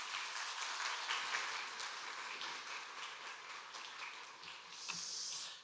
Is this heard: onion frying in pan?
no